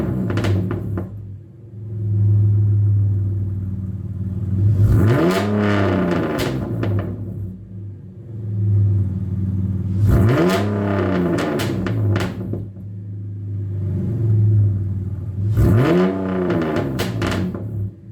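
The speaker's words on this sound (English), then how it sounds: "Let's do a couple revs and see what it sounds like." An E46 BMW 330Ci engine with a Vibrant Performance resonator is revved three times at even intervals, each rev rising quickly to a loud roar and then settling back to a rumbling idle.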